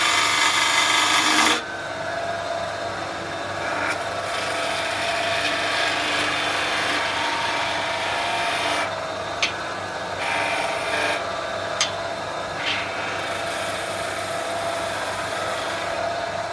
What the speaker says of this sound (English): I'm going to create a little bit more space down the bottom here with another peeling cut.